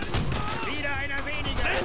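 Gunfire in the World War II shooter Call of Duty: World at War, a rapid burst of shots over game battle noise, with voices talking alongside.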